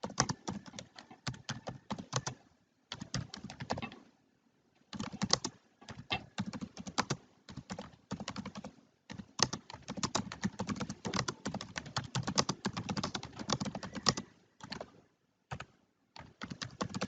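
Typing on a computer keyboard, rapid clattering keystrokes in bursts with short pauses between them, close and clear with no talking.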